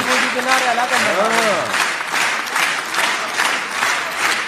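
A standing crowd in the Israeli parliament hall applauds steadily, the dense clapping filling the room throughout while a voice speaks over it early on.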